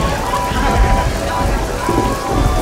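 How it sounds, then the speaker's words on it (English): Heavy, dense rain pouring steadily onto a surface, loud and close, with a dull rumble underneath. "rain"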